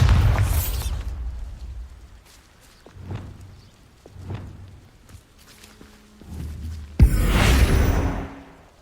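The Bombarda explosion spell in the Hogwarts Legacy video game detonates with a sudden loud burst near the end, following several softer thuds and footsteps.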